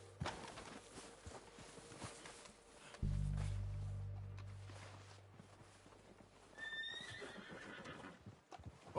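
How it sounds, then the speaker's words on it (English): Horses neighing and hooves clip-clopping in the video game Red Dead Redemption 2, with a low thud midway and a clear whinny later, set against faint outdoor ambience. "They're coming down with the horses."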